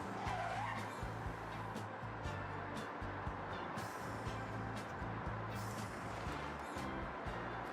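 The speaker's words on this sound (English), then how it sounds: "all of a sudden you just hear tyres screeching" Video game car tyres screech and skid in Forza Horizon 6 amid a revving car engine, fairly quiet and distant-sounding, with engine roar continuing throughout.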